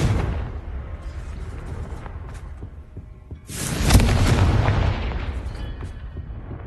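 A Confringo fire spell in Hogwarts Legacy, a loud, close burst of fiery explosion that swells suddenly midway and fades slowly, following a low rumbling background.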